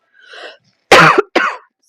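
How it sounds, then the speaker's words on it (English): A person gives a dry cough up close. A soft throaty breath comes first, then two sharp, loud coughs in quick succession. "But I've had this just dang cough"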